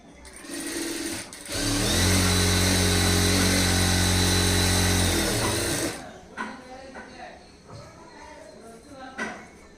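A sewing machine stitching a high neck blouse runs in one loud, steady burst of rapid mechanical whirring for about four seconds, then stops, followed by quieter handling noises and brief talk.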